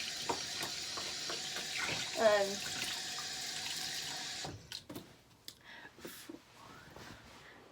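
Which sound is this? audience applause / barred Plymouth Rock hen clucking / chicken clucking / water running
water running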